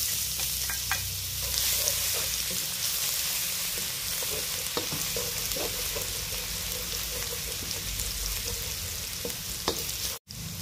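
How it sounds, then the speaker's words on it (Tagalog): Garlic fries in a hot wok with a steady, bright sizzle, broken by occasional scraping stir strokes and small pops, loud and close without talk. "So ngayon, ilagay ko na yung bawang."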